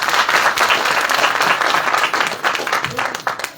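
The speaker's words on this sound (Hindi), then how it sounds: "खुद के लिए ताली बजा दो।" A church congregation at a Christmas sermon breaks into sustained applause, dense clapping from many hands that stays strong then thins into scattered claps near the end, with a little voice underneath.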